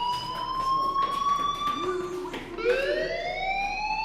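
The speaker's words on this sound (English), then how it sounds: "Hey, do you hear that fire alarm?" A school fire alarm in the video game Life is Strange, blaring a steady electronic tone that drops and shifts pitch partway through, moderately loud and continuous, with faint voices underneath.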